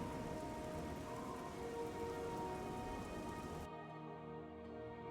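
Constant rain pours down in the Morrowind video game as a soft, unbroken hiss. Near the end the high wash cuts out abruptly, leaving a dull low ambience.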